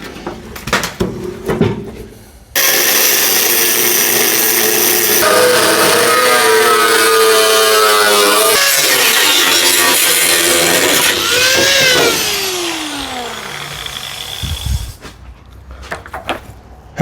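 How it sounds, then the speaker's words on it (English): A loud, sustained power drill grinds and whines through metal for about ten seconds, drilling out spot welds on a BMW E36 328, pitch sliding as it bites, with clattering handling noises before and after. "I'll just drill this rest of the spot welds out"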